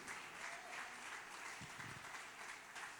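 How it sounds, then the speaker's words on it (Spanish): A church congregation claps for God at a sermon, a steady wash of applause that fills the space at moderate loudness, with a few low thumps partway through. "dale un aplauso a Dios"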